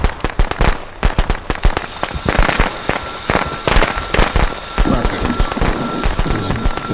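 Firecrackers explode in a video game, a loud, close barrage of rapid crackling pops in irregular clusters that keeps going throughout, with dense sharp bursts and short gaps between them.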